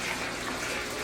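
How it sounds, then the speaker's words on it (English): Water rushes steadily from a fish tank up a black hose in a barrel aquaponics system, a brief, loud, even gushing hiss with no pauses. "the water pumps from the fish tank"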